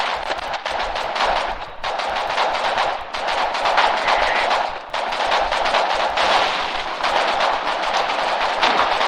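Loud, continuous gunfire and artillery from a war video game, with dense bursts and booming impacts that swell and dip in waves across the whole stretch, no voices.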